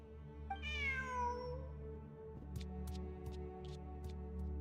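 A video game cat meows once in a long, clear, rising-then-falling cry, followed by a few soft short clicks over a steady low game hum.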